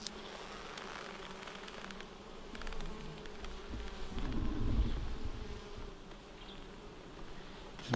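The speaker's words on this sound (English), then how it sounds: "I'll give the bees a little puff of smoke so they don't come out to defend their hives" Honey bees buzzing around a beehive outdoors, a continuous hum of many insects that swells slightly in the middle and stays moderately faint throughout, with no talk over it.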